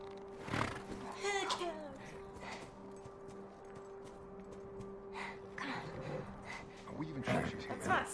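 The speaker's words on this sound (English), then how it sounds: "That horse is loud." A horse in The Last of Us Remastered whinnies a few times, fairly close and loud, amid scattered voices and a steady background tone.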